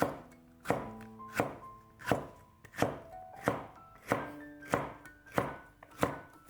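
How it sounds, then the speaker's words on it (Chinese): A knife slices a halved, deseeded green chili into thick strips on a board, making nine evenly spaced, crisp chops in a steady rhythm, each with a short, sharp attack, close and clear with no talking. "先从中间对半切开，将里边的辣椒籽去掉，然后将辣椒切成粗条，"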